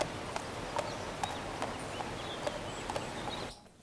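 A horse's hooves clip-clop at a steady walking pace up a hill, each strike crisp and regular over a constant rumbling backdrop until the sound cuts off abruptly at the end.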